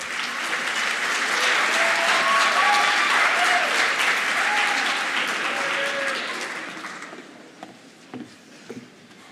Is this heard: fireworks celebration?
no